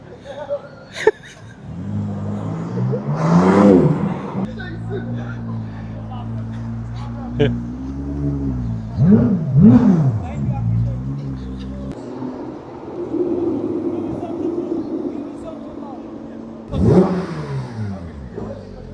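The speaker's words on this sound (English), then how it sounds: "Please give me a loud engine while you leave, please." A Range Rover revs loudly while pulling away on a street at Alderley Edge, rising engine sweeps surging several times near and then fading, with people talking and another car passing later.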